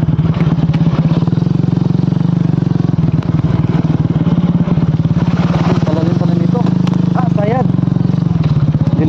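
A motorcycle engine runs loud and steady while the bike pushes through deep water, with constant splashing and clatter, and voices shouting faintly over the noise.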